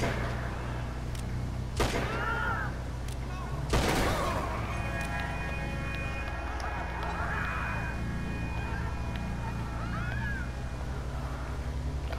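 Gunfire in GTA 5 during a vehicle chase, a few sharp shots standing out over steady engine and road noise, with a voice talking now and then.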